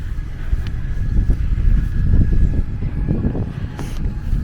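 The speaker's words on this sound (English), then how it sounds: "The noise you can hear is a bus at the bus stop." A bus idles nearby at a bus stop with a low, rumbling engine drone, steady and loud, with faint wind buffeting in the background.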